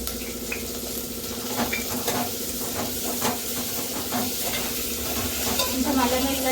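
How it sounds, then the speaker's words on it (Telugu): Onions with ginger-garlic paste fry in a pan for a bitter gourd pulusu, giving a steady sizzle and hiss with intermittent stirring scrapes and light clinks of the pot throughout, no talking. "కొంచెం అల్లం వెల్లిగడ్డ, ఉల్లిగడ్డ కొంచెం వేగాలి."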